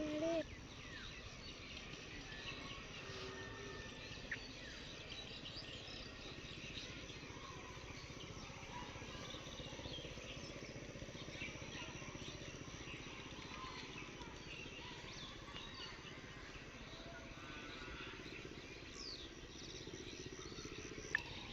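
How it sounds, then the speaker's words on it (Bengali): Faint, distant birds chirp now and then over a steady outdoor hum of insects and wind in an open mustard field. "আশেপাশে শুনতে পাচ্ছেন কত পাখির"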